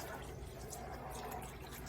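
Water pours steadily into a pan of gravy for smothered pork chops, a faint, continuous hissing splash with no pauses over the short stretch.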